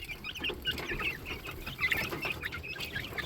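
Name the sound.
chicks clucking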